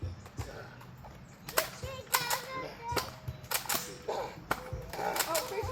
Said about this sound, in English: Oh, Jamie, you shot it too early.